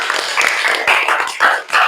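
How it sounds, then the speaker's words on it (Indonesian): Classroom applause for a student group, a short patter of hand claps from several people, close and fairly loud, with uneven bursts for about two seconds. "Mari kita berikan tepuk tangan yang meriah untuk keberanian kelompok 3"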